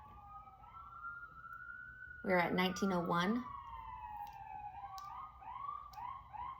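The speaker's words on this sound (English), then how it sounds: "Lots of sirens. We got more sirens coming." A wailing siren rises and falls in the distance, with a second siren layered over it. Someone speaks briefly partway through.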